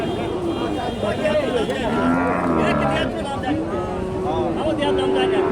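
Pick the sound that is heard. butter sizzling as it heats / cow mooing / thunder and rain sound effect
cow mooing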